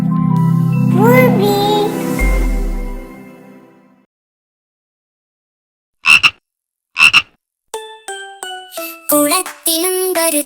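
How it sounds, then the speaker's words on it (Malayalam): A cartoon frog croaks in a Malayalam children's song: a sung melodic line first, then after a pause a series of short, punchy croaks alongside bright tinkling jingle notes. "കുളത്തിലുണ്ടൊരു തവളച്ചാര്, പൂക്കം കരയും തവളച്ചാര്."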